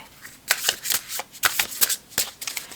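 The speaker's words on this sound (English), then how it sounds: "your deck is shuffling very messily" A tarot deck shuffled in quick, uneven bursts of crisp riffling and card slaps, close up and fairly quiet, with no voices.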